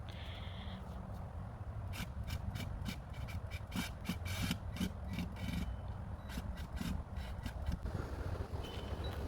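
Screws are backed out of a damaged deck board, giving faint scraping, grinding bursts in short repeated strokes over a quiet background.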